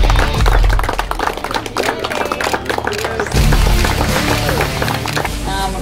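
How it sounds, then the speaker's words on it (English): Spectators applaud the winning team at an amateur cricket trophy match between South Asia XI and Queensland Police in Australia, with loud, close clapping over music and crowd noise. "give them a huge round of applause"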